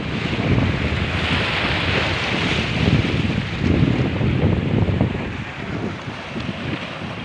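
Sea waves break and wash ashore in a continuous loud rush with rolling surges, mixed with gusty wind buffeting the microphone and no voices.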